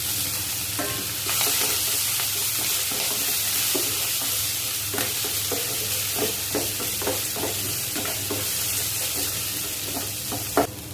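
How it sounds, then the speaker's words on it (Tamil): Onions, green chilli and ginger sautéing in a pan, a continuous close sizzle broken by repeated scraping and tapping strokes of a spoon, ending on a sharper knock, with no one speaking. "வெங்காயம் வதங்கிடுச்சு."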